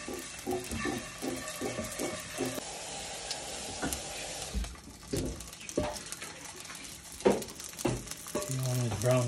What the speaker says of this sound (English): that has been frying on one side for just over a minute